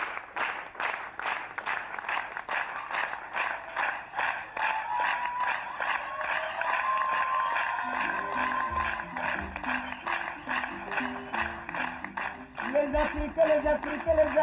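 Theatre audience applauding at the Avignon festival, a dense steady wash of clapping throughout, with a low musical or vocal tone entering under the clapping in the second half.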